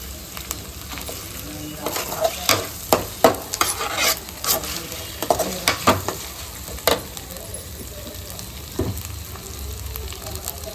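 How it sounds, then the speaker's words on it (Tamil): Onion and tomato sauté in a pan for chicken gravy, a low sizzle under repeated sharp spatula scrapes and knocks that come in bursts through the middle, close and fairly loud. "வெங்காயம் வதங்கிடுச்சு தக்காளி கொஞ்சம் போட்டுக்கலாம்"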